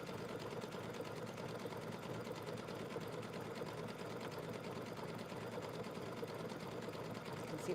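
A sewing machine runs decorative stitches along a fabric fold, humming in an even, unbroken drone for the whole stretch, moderately quiet and nearby.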